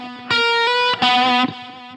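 Electric guitar through a Line 6 Helix LT processor playing sustained distorted chords, each ringing out with echoing delay repeats that trail off after the strings are struck.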